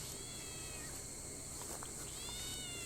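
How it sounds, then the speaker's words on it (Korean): A faint, high cat meow rises and falls over steady background noise, with a couple of short mewing calls toward the end. "고양이 소리 왼쪽에서 들리는데?"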